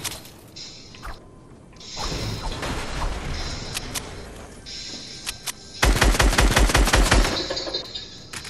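Rapid bursts of video game gunfire, with automatic fire crackling in clusters and a dense, loud volley near the end, alone with no voices.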